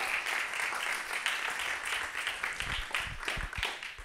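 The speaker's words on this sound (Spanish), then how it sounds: "gran aplauso" Awards ceremony audience applauding in a steady, dense wash of many hands, fairly close and loud, holding for about four seconds without talk.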